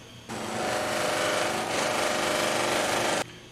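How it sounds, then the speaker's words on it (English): A buffing wheel charged with carnauba wax whirs steadily against PVC pipe, a close, continuous high-pitched power-tool drone that starts abruptly and runs for about three seconds before cutting off. "I like to take carnauba wax, charge it to a buffing wheel, and then put a light shine on that PVC"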